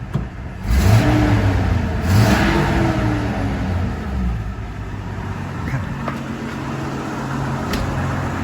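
A 1983 Toyota Land Cruiser FJ60 engine idles steadily around 600–700 RPM once warm, a low mid-pitched rumble close by that swells briefly early on, then settles into an even hum with no voices.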